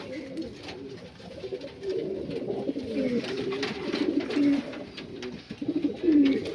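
A new pair of domestic pigeons coo repeatedly at close range, soft throaty rolling calls rising and falling over light background noise, with no talking.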